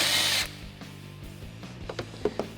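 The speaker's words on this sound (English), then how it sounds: "we're going to remove a couple of 10mm nuts on top of our battery connectors here" A power tool whirs briefly, loosening 10mm nuts on the battery connectors of a Jeep Wrangler JL 3.6L, followed by a few light metallic clicks and knocks as the nuts come off.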